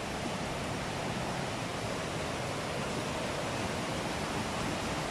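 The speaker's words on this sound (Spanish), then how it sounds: "Se escucha cada vez más fuerte la caída del agua." Water pouring down Curi waterfall makes a steady, dense roar that fills the whole clip at an even loudness, with no voices over it.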